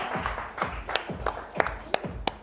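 A small audience at a trading meetup applauds the contest winners and participants, giving about half a dozen sharp, separate claps close by, fairly quiet overall, with a faint murmur beneath.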